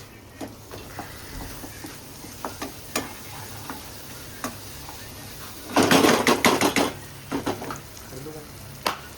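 Masala fries in a pan and is stirred, a low sizzle broken by scattered ticks and scrapes, with a burst of loud, rapid clattering stirring midway and a few more later on.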